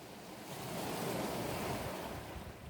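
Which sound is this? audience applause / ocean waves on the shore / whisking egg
ocean waves on the shore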